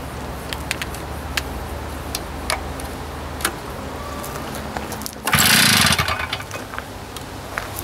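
A Jumpin Jack compactor engine with suspected internal issues is pull-started over steady background rumble and ticking, ending in a loud, sustained burst of engine noise lasting about a second.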